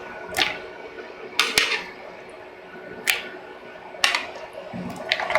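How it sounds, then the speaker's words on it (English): Blanched asparagus spears drop one after another into an ice-water bath, making about five short, separate splashy plops spaced a second or so apart over a quiet background. "Into the ice bath."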